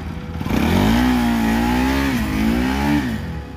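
A Bajaj Pulsar 200cc motorcycle, stationary in first gear, revs up close by: the engine climbs to a loud, steady drone, dips slightly, then swells again before easing off, with no talk over it.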